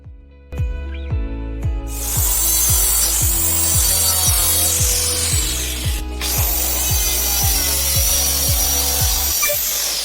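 Power saw cutting an MDF board, a loud continuous whine with a rapid rhythmic rasp of the blade biting through, running close for about eight seconds after a brief start-up.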